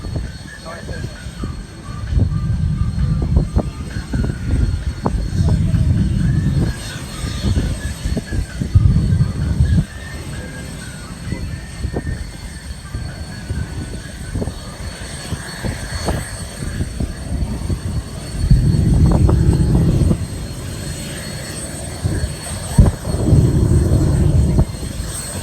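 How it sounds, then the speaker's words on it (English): A jet car at the WBCA Stars & Stripes Air Show makes deep, rumbling roars that come in several heavy bursts, loud but somewhat distant and rising and falling across the stretch. "at full throttle, taking off from a dead stop, it accelerates to 290 miles an hour in less than a quarter of a mile"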